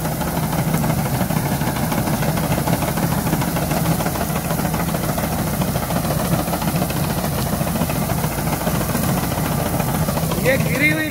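A reaper harvester engine runs steadily while cutting fallen, lodged wheat in a field, a loud continuous mechanical drone with rattling vibration that fills the whole stretch without a break.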